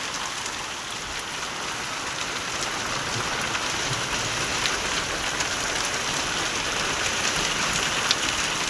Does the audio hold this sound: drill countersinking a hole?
no